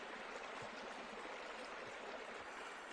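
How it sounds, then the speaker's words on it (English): Water at a rolling boil in a pot on a camping stove, a steady, dense hiss and bubbling roar with faint low pops, continuous and fairly near with no talk. "there's the raging boil now"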